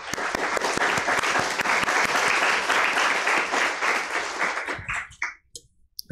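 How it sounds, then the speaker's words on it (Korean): Church congregation applauding to welcome visiting members during a Sunday service, a full, loud wash of many hands clapping for about five seconds before thinning out into a few scattered claps. "잠깐 일어서 주시면 박수로 환영하겠습니다."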